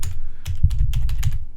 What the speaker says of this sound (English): In fact, I'll type it in the comments